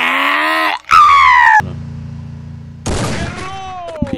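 Gunfire bursts and sharp weapon effects in the Free Fire battle-royale game, loud and close, mixed with whooshing game sounds in uneven clusters.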